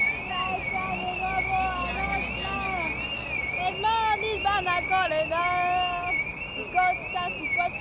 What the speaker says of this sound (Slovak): môžu vypnúť ten alarm vyjebaný?